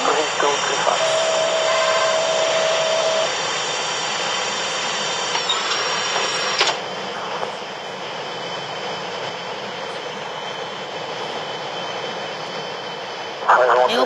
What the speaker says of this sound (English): We're gonna land this aircraft.